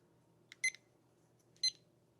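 A ThermoWorks TimeStick Trio kitchen timer beeps in two short, bright bursts about a second apart, heard outdoors at a charcoal grill in freezing weather over a faint low hum.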